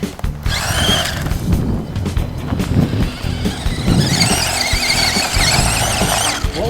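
A Helion Animus 1/18 scale 4x4 electric RC truck drives close by, its motor whining and squealing in bursts as the throttle changes, with rough rattling from the chassis over the ground.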